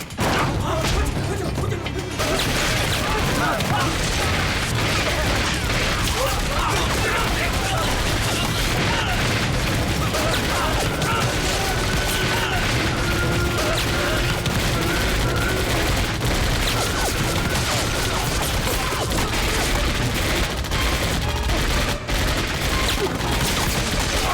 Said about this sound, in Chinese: 兄弟们，是枪声，在船头方向，怎么会有枪声？